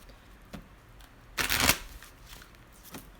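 A deck of cards is shuffled during a live tarot-style reading, with a short riffling burst in the middle and a few soft taps around it, close and quiet.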